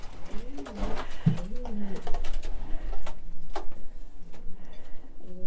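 Pigeons in a racing loft coo in deep, repeated rolling calls close by, with soft clicks and shuffling in between and the cooing fading to quieter calls toward the end.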